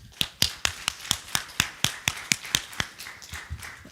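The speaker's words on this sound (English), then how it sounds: "Can we give them a round of applause?" Clapping at a church all-hands winter keynote, a sparse, steady beat of distinct close claps at an even rhythm, like a small group clapping rather than a full crowd, with no talk.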